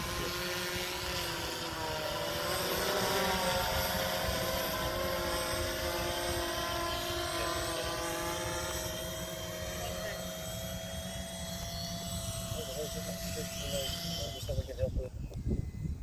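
A police demonstration drone hums and buzzes steadily as it flies and comes in to land, its rotor tone drifting and wavering, fairly close and loud, then cutting out with a few clunks near the end.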